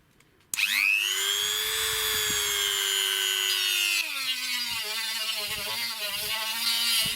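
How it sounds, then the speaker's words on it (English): A DrillPro die grinder fitted with a small sanding drum whines loudly and steadily for about seven seconds, its pitch dropping partway through as the drum bites into the work, with brief scraping catches near the end. "Let's try one of the little sanding drums then."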